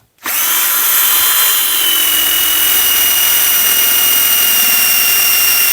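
A power drill bores into a metal engine part with drill bits, spinning up abruptly after a brief silence and then holding a loud, steady high-pitched whine close by, with no voices.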